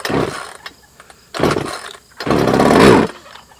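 A cold chainsaw engine sputters in three loud, close bursts, catching briefly and dying between them, the last run lasting longest.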